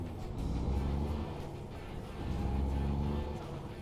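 A Kenworth truck drives in American Truck Simulator, its engine a steady low rumble that swells twice as it pulls, fairly faint with no voices over it.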